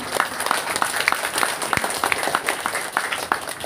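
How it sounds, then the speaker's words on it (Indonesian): Audience members at a political campaign gathering in Karang Nongko, Sukodono clap in a dense, fairly close burst of applause with sharp individual hand claps standing out, lasting a few seconds. "silakan tepuk tangan"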